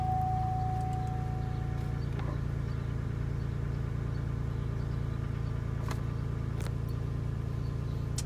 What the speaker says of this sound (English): I think my exhaust is getting louder.